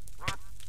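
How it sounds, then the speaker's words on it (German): A single brief duck quack from the game Minecraft rises over a steady background of hiss and low hum, short and moderately loud. "Was machen Vögel und Enten hier?"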